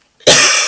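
A single sharp, loud cough close to the microphone, alone after a brief silence.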